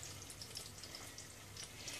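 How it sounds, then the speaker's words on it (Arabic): Water is poured slowly over pieces of apricot paste in a pot while making jam, giving a soft, continuous trickle and splash close up, with no voices. "ونبلش نصب في عليهم المي شوي وشوي"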